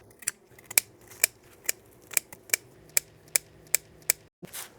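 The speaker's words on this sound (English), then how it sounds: "Next, I'm gonna cut this thyme." Scissors snip fresh thyme stems in a home herb garden, giving about ten sharp, close clicks at a steady pace, a little under half a second apart, with quiet pauses between and no talk.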